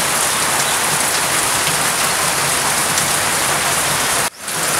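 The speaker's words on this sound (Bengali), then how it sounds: "একটু পরে বৃষ্টির প্রখরতা বেড়ে গেছে, এই যে অনেক বৃষ্টি পড়তেছে।" Heavy rain pours steadily over a village, a dense close hiss of drops on surfaces that cuts off abruptly near the end before resuming.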